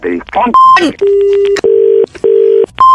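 Short bursts of speech give way to a series of steady electronic telephone tones, each held briefly with gaps between, loud and close.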